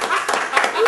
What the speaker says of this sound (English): Now you may applaud.